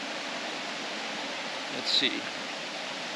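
A river rushing through the lush Iao Valley on Maui makes a steady broadband wash of flowing water, constant and fairly close, with a brief voice speaking partway through.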